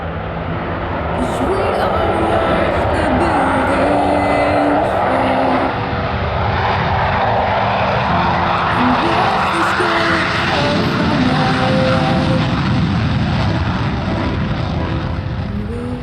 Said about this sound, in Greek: 2 μαχητικά αεροσκάφη F-16 της 111ης πτέρυγας μάχης απογειώνονται από τη Νέα Αγχίαλο